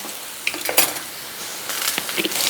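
Thick potato discs fry in a pan of oil for maqluba, a steady close sizzle with a few scraping stirs and light clinks of utensil against pan.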